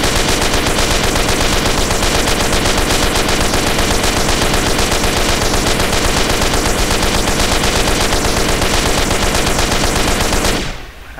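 Rapid, sustained automatic gunfire from a GTA San Andreas mission mod rattles on loudly and without a break for about ten seconds, then cuts off abruptly.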